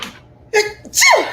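A single loud sneeze, close by, with a sharp breathy burst after a brief inhale.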